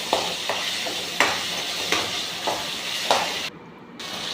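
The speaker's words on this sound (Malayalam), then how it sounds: "ഇതിലേക്ക് നമുക്ക് ഇഞ്ചി വെളുത്തുള്ളി പേസ്റ്റ് ഇട്ട് കൊടുക്കാം. അതും കൂടി ഒന്ന് യോജിപ്പിക്കുക." Ginger garlic paste fries in a pan for a Kerala-style dish, with a steady sizzle and a spoon scraping and stirring at a regular rhythm about every half second, close and clear.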